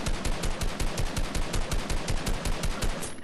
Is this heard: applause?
no